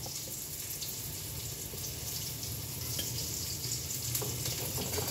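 Water added to a pan of frying spices with turmeric and salt while cooking a Bengali folui fish curry with potato and green banana, giving a steady, close sizzle and bubbling hiss throughout with no talk.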